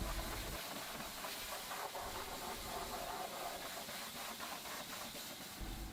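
Pressurised water jet rinsing the underside of a car bonnet lined with sound deadening in an engine bay, a steady close hiss with spray spattering, continuous for the whole stretch without pause.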